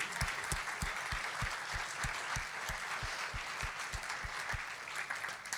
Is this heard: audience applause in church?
yes